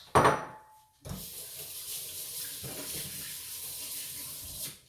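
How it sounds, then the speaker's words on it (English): A kitchen tap runs steadily at a sink while hands are washed, a broad even water hiss close by, beginning after a brief clatter and continuing without talk to the end. "Let me get my hands a wash."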